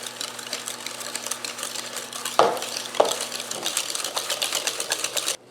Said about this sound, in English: we're just gonna whisk these together